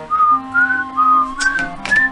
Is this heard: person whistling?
yes